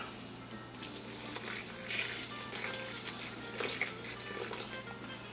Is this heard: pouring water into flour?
yes